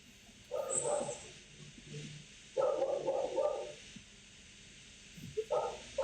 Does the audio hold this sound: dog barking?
yes